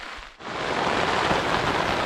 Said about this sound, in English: just pitched up as the rain was starting